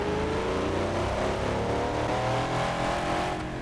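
A loud twincharged car engine roars at high revs with rising pitch as tires spin, close and continuous, with no voices.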